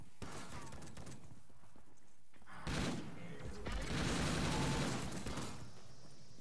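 Shotgun blasts in Call of Duty Zombies, a few heavy booming shots spaced out among dense game noise and chaotic action, with someone talking throughout.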